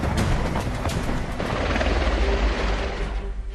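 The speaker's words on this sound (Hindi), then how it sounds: "एक अटैक हेलीकॉप्टर जमीन के काफी करीब चलता है।" An attack helicopter flies loud and close, its rotor thudding in a heavy, continuous beat over a broad engine roar, with no talking.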